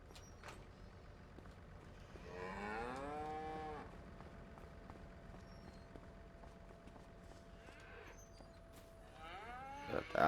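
Cows moo in the Farming Simulator 25 video game: one long, drawn-out low moo in the middle and another starting near the end, over quiet in-game ambience with no talking.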